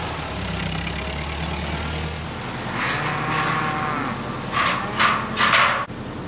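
Cattle on a farm moo in several long, low calls, close by, over the steady drone of an idling engine, with hay bales laid out in the field.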